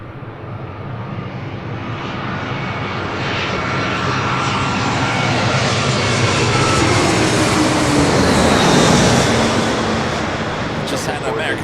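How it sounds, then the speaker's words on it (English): An American Airlines Airbus A321 jet airliner passes low overhead at Los Angeles airport. The broad engine roar swells steadily to a loud peak near the end, then begins to fade. "an A321 just flying over our heads"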